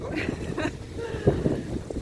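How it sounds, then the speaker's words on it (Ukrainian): Gusty wind buffets the microphone in low rumbling bursts during an evening walk outdoors, with faint voices in the background. "такий дуже сильний вітер, що аж здуває"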